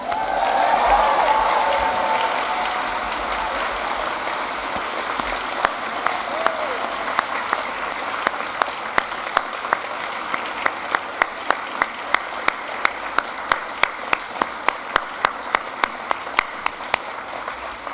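A graduation ceremony audience applauds loudly and continuously, with cheering at the start, and individual claps grow more distinct as the applause goes on.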